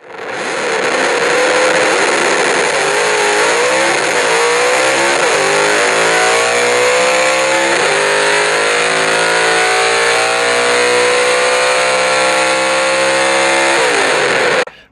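Muscle cars blast down a quarter-mile drag strip: a loud, continuous engine roar climbs in pitch through several gear shifts over about fifteen seconds, then cuts off abruptly.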